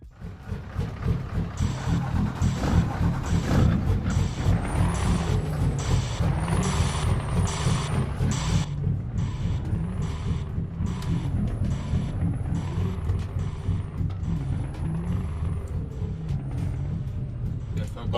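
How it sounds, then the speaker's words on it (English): Scania DC16 V8 truck engine in Euro Truck Simulator, an 845 V8 with a 730 chip fitted through a sound mod, drones steadily throughout with a low, continuous rumble, sharp hissy bursts and faint whistling tones over the top, and no talk. "That Scania engine."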